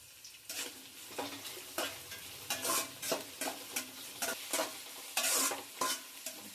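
Onions for chicken biryani fry in hot oil in a pan while being stirred, a steady sizzle broken by repeated scraping strokes, close and fairly quiet.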